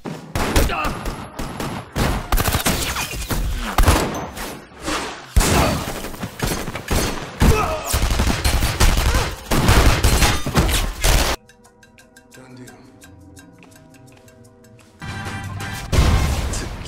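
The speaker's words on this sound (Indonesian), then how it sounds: "tiba-tiba Bates menembak The Butcher hingga meninggal dan menghabisi semua pasukan The Butcher tanpa tersisa satupun" Dense film-scene gunfire: rapid bursts of shots and heavy thuds crowd the first eleven seconds, followed by a quieter stretch with a low musical tone, then loud action resumes near the end.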